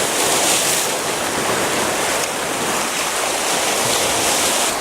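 Ocean surf crashes and splashes over rocks on the Okinawa coast, a loud, continuous roaring wash of white water with no voices.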